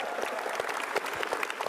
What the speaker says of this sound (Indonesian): Sekali lagi tepuk tangan buat